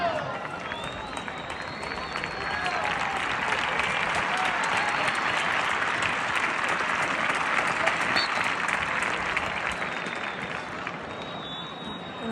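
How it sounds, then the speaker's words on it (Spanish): A stadium crowd at a Sevilla FC youth derby applauds a football player coming on from the bench, a sustained broad roar of clapping and cheering, with a commentator talking over it. "salió desde el banquillo y tuvo un aplauso muy bonito"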